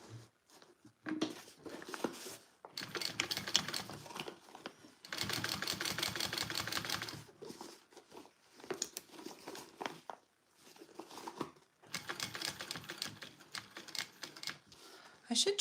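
A home sewing machine stitching a 3/8-inch seam on a sling bag at a short stitch length, running in rapid mechanical bursts of several seconds each, separated by pauses, with someone talking between runs.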